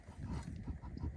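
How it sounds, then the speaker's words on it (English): Geese honk repeatedly in a rough, rhythmic chorus, fairly faint and at some distance. "Those of you wondering what those birds are, they're called Egyptian geese."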